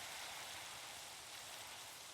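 Minecraft rain pours in a steady, dense wash of static-like patter, unbroken and fairly quiet, with no voices over it.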